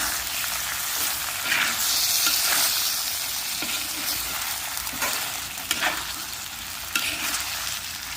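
Potatoes and fish fry in a pan of hot oil in a rural home kitchen, a steady loud sizzle broken by the scrape and clatter of stirring at irregular intervals, with no voices.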